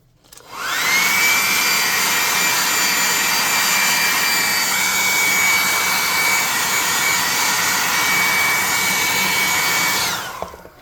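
A hair dryer switches on and blows with a steady, loud whoosh and high whine for several seconds, then cuts off; no talking.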